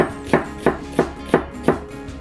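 A kitchen knife slices onion on a cutting board for a spicy blue crab salad, with five crisp, evenly spaced chops close up and no talking.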